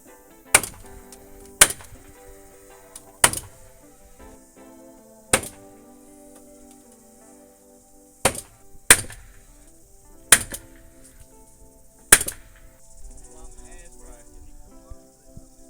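A nail gun fires into a timber brace on a house frame at a new build, about eight sharp, separate bangs at uneven intervals with quiet gaps between them.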